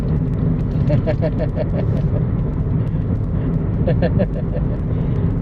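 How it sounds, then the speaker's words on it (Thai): A car driven along the road, heard from inside as a steady, loud engine and road rumble that carries through the whole stretch, with voices talking over it at moments. "ให้ภรรยาขับรถให้"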